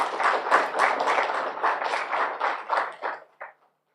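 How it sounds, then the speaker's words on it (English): A short burst of applause from a small group at a university scholarship ceremony, clapping rhythmically then tapering off and stopping. "give yourselves a round of applause"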